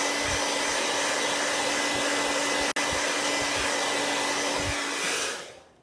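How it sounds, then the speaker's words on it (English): A hair dryer blows steadily and loudly for about five seconds onto wet chalk paint on a craft surface, with one brief dropout midway, then switches off and winds down. "Actually, let me hit this with a hairdryer really,"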